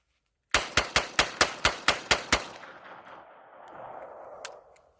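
A revolver, a .22 model, firing nine sharp rounds in a steady, evenly spaced string, loud and close, followed by a fading rumble of echo and faint handling noise afterward.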